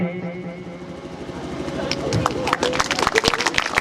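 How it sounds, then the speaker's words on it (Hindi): Audience clapping at a government school award ceremony in Sausar, Chhindwara, building from a faint murmur into dense, close applause over the last second and a half. "जोरदार तालियां।"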